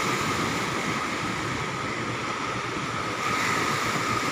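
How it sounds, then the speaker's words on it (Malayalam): Heavy sea waves surge and wash continuously on the Arabian Sea at night, a dense, steady roar of surf with wind noise, loud and unbroken throughout. "തിരമാലകൾ വളരെ കൂടുതലാണ്"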